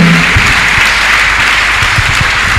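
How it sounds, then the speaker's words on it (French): A church congregation applauds and cheers for Jesus, a dense, steady wash of clapping that stays loud and even from start to finish. "Est-ce qu'on peut acclamer Jésus?"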